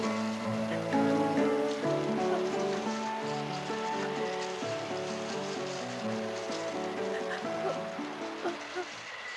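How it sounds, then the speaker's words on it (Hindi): Heavy rain pours steadily throughout, a dense hiss blended under a sustained musical score in a mythological drama set in a forest at night. "और ये भयंकर वर्षा।"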